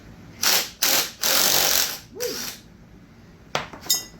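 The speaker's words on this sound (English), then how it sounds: "So I'm going to take my impact here." An impact wrench loosens the connecting rod cap bolts on a Ford 428 engine. Several short, close rattling bursts come in quick succession, then pause, then two more brief bursts.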